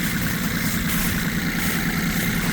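A farm tractor with a tiller attachment idles close by, giving a loud, steady mid-to-low engine rumble that doesn't change for the whole stretch, with no talking over it.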